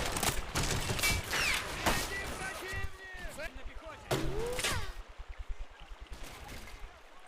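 Battlefield gunfire in the Men of War Soviet bridge assault: dense volleys of shots and bursts, loud and close at the start then recurring, with a voice commentating over the battle noise.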